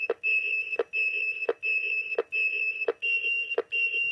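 Repeating electronic beeps from a Master Replicas Aliens motion tracker prop in a fast steady pattern, each tone broken by a short sharp click, loud and close with no talking.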